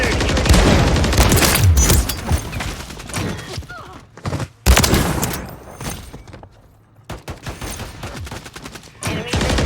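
Rapid bursts of akimbo shotgun fire from the video game Modern Warfare 3, loud dense booming volleys with short gaps, one clear pause midway, under faint in-game voice callouts.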